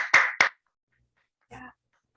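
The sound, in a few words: applause over Zoom for the readers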